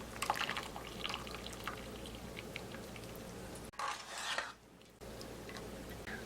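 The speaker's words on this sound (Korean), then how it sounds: "끓으면 건져서 차가운 물에 두세 번 정도 흔들어 주세요" Blanched wild garlic greens being shaken and rinsed in a bowl of cold water, giving soft sloshing and dripping splashes close by, with a brief louder swirl near the end and no talking.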